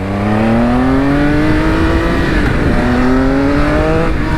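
A Triumph Speed Triple RS motorcycle engine revs hard and steadily, its pitch climbing smoothly, dipping briefly, then rising again, loud and close with no one talking.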